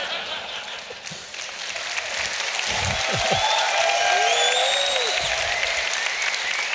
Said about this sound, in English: I just want to give a quick applause to the crew in the back